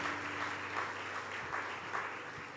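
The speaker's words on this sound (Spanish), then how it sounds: "denle el aplauso al Espíritu Santo" A church congregation applauds steadily, a dense wash of clapping hands heard at a moderate distance and holding at an even level throughout, with no voices over it.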